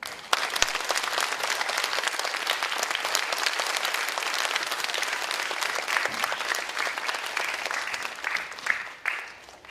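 An audience at a children's composition program results concert in Gimhae gives sustained applause for the teachers, a steady wash of many hands clapping at moderate distance that fades near the end.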